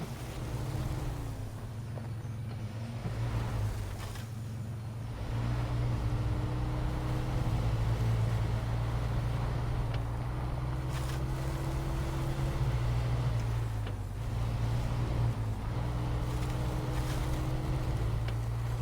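A truck engine in SnowRunner drones steadily and low, its pitch rising and falling a little as it works along, a continuous rumble with no talking.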